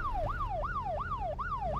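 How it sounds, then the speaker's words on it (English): A police car siren in the Arma 2 video game wails in a rapid rising-and-falling cycle, about four sweeps in under two seconds, loud and steady over a low engine rumble. "I've got my sirens on"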